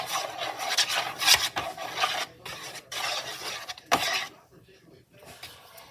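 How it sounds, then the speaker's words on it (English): A knife swirls through a chocolate bark mixture made for a Christmas treat, giving close scraping and rasping strokes in uneven bursts that fade into near silence toward the end. "And then you get a knife and swirl it all around."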